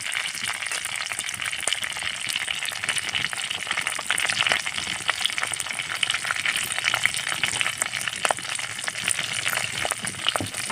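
Green chilies and curry leaves fry in a pan for a tomato egg curry, sizzling loudly and steadily. Bright crackles and pops run through the sizzle, and no voice is heard over it.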